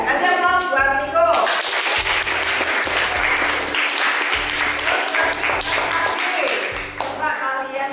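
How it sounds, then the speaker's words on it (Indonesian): A classroom of students claps for a classmate, with dense, bright applause that swells and carries on for several seconds. Voices are heard at the start and end, and a low rhythmic thumping runs underneath. "kasih aplaus buat Niko"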